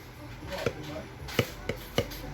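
Melted soy candle wax being stirred for candle making, with four sharp, distinct knocks of the stirring utensil against its container spaced irregularly over a steady low background hum, fairly close and moderately loud.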